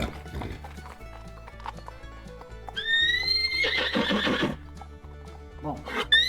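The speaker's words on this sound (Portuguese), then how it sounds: "O sopro parece um relincho, mas ele só sai pelas narinas." A horse blows air out through its nostrils in a whinny-like, breathy call, loud and close, with soft hoof clops spaced through the background.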